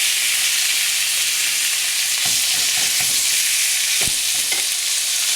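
Sliced pork sizzles loudly with softened onions in a hot pan for Pancit Bato Guisado, a constant bright frying hiss with a few clattering stirs partway through.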